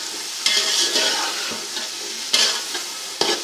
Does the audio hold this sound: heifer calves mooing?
no